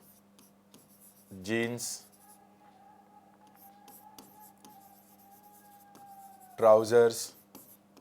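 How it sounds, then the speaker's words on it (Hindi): A teacher writes on a board during a Hindi-language English grammar lesson on nouns, with soft scratchy strokes running through the middle stretch and short bursts of speech before and after. "मैं लिख देता हूं पहले."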